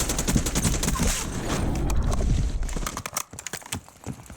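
Rapid bursts of sniper and automatic gunfire in the Warzone video game, loud and close, cracking in dense volleys for most of the span before thinning into scattered single shots.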